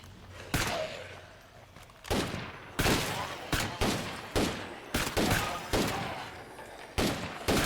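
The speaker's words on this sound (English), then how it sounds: "Stop shooting them." Repeated gunfire in State of Decay 2, sharp reports in irregular bursts and single shots over several seconds, loud and close against a quieter background.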